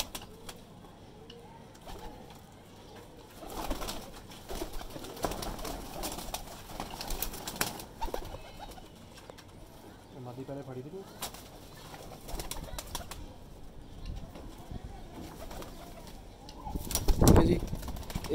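Kasuri pigeons coo and rustle nearby amid background voices, with a brief flutter of wings and a loud handling noise near the end.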